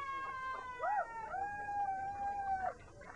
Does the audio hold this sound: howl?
yes